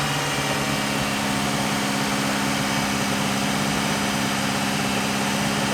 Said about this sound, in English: I'm just running the cleaner through the engine. Obviously I've got the revs raised up a bit.